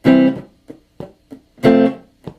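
Blues guitar played with two loud open strums, each followed by a few short, quiet palm-muted downstrokes, in an even, rhythmic pattern, close and with no talking.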